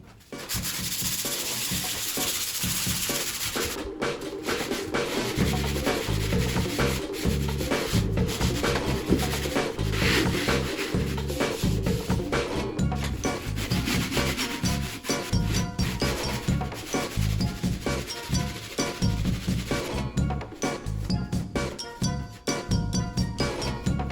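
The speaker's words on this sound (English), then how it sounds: "Yesterday I skimmed this area up here, so I'm going to sand it down" Sanding down a freshly skimmed plaster wall patch, a steady, close rasping scrape that continues almost unbroken with rhythmic back-and-forth strokes throughout.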